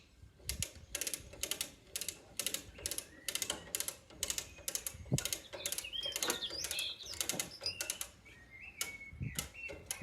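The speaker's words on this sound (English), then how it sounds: "it was quite easy to pop the hook through the rusty holes and set the winch up." A hand winch rated for about a ton ratchets in a steady run of sharp, regular clicks, close and loud, as it pulls a dent out of a rusty Massey Ferguson 50B, with faint whistling tones in between.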